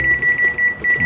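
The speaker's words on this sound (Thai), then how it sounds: "ไมโครเวฟ800วัตต์แล้วก็ตั้งเวลา สัก13นาที" An 800-watt microwave oven gives a series of short, sharp electronic beeps in quick rhythm as its timer is set, loud and close with nothing else heard.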